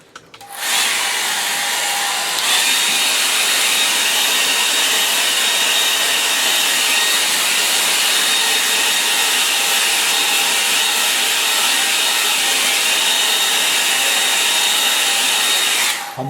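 A hair dryer blowing on a painting starts abruptly and runs as a loud, steady, high-pitched whoosh that barely changes for the whole stretch.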